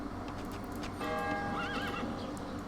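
Light horses in the Rise of Nations strategy game whinny in a rising, wavering neigh over a busy bed of clip-clopping hooves and battle noise.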